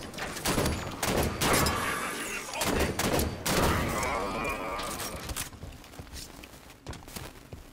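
Halo 5 combat with repeated bursts of gunfire, sharp cracking shots in clusters across several seconds, loud and close, with voices briefly audible in the mix.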